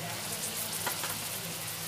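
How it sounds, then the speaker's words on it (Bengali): Garlic and ginger paste frying in oil with onions in a pan, a steady soft sizzle with a faint scrape of stirring, continuous and fairly quiet. "রসুন বাটা দিয়ে আমরা ততক্ষণ পর্যন্তই নাড়ব যতক্ষণ না পর্যন্ত রসুনটা ভাজা হয়ে হালকা একটা মিষ্টি গন্ধ বের হয়"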